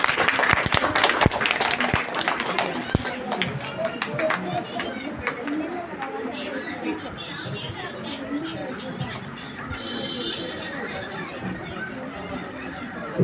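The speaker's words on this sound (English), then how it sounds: "Give a big round of applause to our Chairman Sir." Audience applause at a school graduation ceremony: a dense burst of clapping from a crowd, sharpest in the first few seconds, then settling into steady clapping mixed with murmuring chatter throughout.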